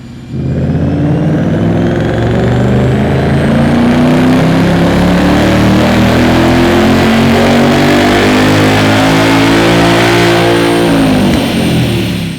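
A 2024 Ford Mustang S650 V8 revs hard and loud through a Steeda 3-inch cat-back exhaust, a deep rumbling roar climbing steadily in pitch for several seconds before dropping back off.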